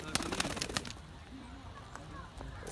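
Mixed pigeons in a flight aviary make a flurry of sharp wing claps and fluttering up front, followed by faint, low, throaty coos trailing off in a quieter enclosure.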